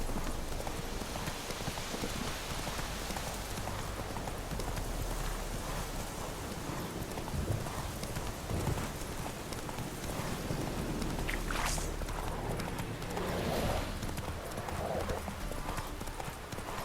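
Horse hooves clip-clop steadily at a walking pace in The Witcher 3, mixed with a soft rain-like ambient wash and a brief rustle or whinny, moderately close.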